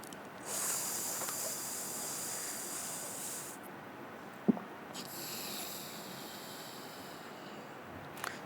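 Amrut Kriya yoga breathing, drawing air in through the tongue with a hissing sip, gives long, soft airy hisses. One starts near the beginning and runs for a few seconds, another follows after a short pause, with a small click between them.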